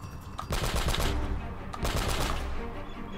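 Mounted turret machine gun firing in the action game Uncharted, two long, loud bursts of rapid, rattling shots with booming low-end impacts and a brief gap between them.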